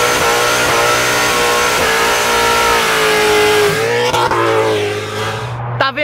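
A Formula Drift Mustang engine revving hard and holding a loud, sustained, climbing roar close by, the pitch sweeping up and down before the sound cuts off abruptly at the end.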